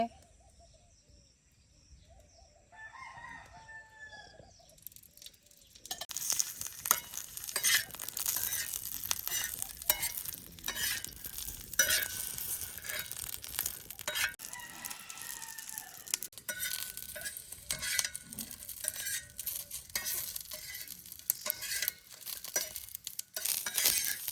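Green chillies sizzle and crackle in hot oil, a steady frying hiss with irregular pops that starts abruptly after a few seconds of quiet clinking and continues closely to the end.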